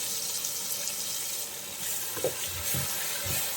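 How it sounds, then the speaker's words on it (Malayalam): Tomato paste sautéing with green chillies and onions in oil in a pan for a fish curry, a soft continuous sizzle with a few quiet stirring scrapes. "നമ്മൾ പേസ്റ്റാക്കി ചേർത്താൽ നന്നായിട്ട് ഒന്ന് വഴറ്റിയെടുക്കണം"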